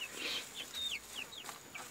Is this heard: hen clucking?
yes